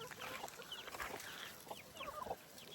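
Flock of backyard hens clucking and chirping in a steady outdoor chatter, several birds close by with overlapping short calls, no talk.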